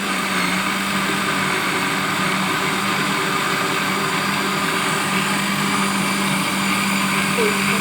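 Countertop blender whirring steadily as it blends oat flakes with about a litre of water into homemade oat milk, a loud continuous motor drone with a faint hum, no one talking.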